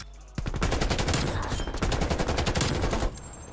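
KRIG 6 rifle in Black Ops Cold War firing loud, rapid automatic bursts that run almost continuously for about three seconds.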